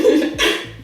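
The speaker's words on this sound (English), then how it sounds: "clearing his throat" A short, throaty throat clearing, one rough guttural rasp lasting under a second, close up.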